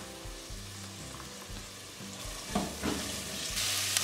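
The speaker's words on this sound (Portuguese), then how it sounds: "Eu vou deixar fritando o alho e a cebola até que fique com um leve dourado" Garlic and onion fry in a pan with a steady, close sizzle and occasional stirring scrapes, with no talking.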